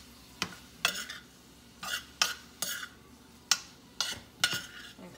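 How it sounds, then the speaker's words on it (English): Potatoes sautéing in a pan for a loaded potato fajita, with repeated scraping and stirring strokes of a utensil against the pan every half second or so over a faint sizzle, close up. "so those are sauteing perfectly"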